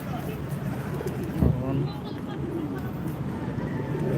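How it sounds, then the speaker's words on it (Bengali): Pigeons cooing outside a museum in the Philippines, soft low coos under people talking, with a brief louder knock and faint traffic in the background. "সুন্দর কবুতর"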